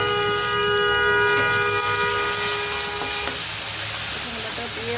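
Garlic paste hitting browned chopped onions in hot oil for a tilapia and yardlong bean curry, giving a loud, steady broadband sizzle with a ringing, whistle-like edge that eases slightly after a few seconds.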